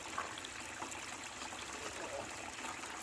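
Water runs steadily through a Gold Cube sluice loaded with river gravel, a continuous close trickling wash with no breaks.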